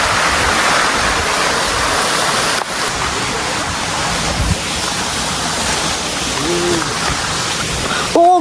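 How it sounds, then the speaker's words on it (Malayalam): The Cheli Kuzhi waterfall roars loudly and continuously at close range, a dense rushing wash of water over rock, with faint voices briefly surfacing near the end. "വെള്ളച്ചാട്ടം."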